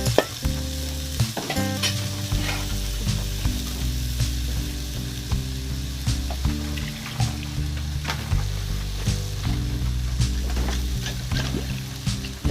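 Spices for a crab soup are stirred in a frying pan, a loud close sizzle with a rhythmic scraping of the utensil and repeated clinks against the pan.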